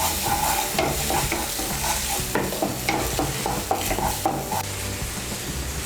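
Water splashed into frying spice paste with cumin powder for an egg malai curry, giving a loud hissing sizzle while a spoon scrapes and stirs the pan in repeated rhythmic strokes.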